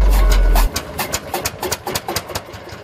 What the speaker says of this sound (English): this classic piece of agricultural machinery, the Land's Bulldog Tractor